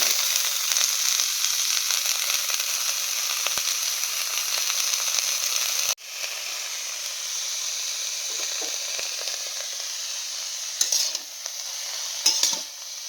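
Cabbage frying in a pan with steady, loud sizzling throughout, broken by a brief pause and occasional stirring clatter, no talk.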